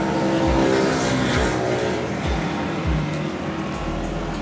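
FP4 racing karts at a club championship round on the Clay Pigeon circuit roar past close by, dense buzzing engine drone with repeated revs and downshifts, loud and continuous.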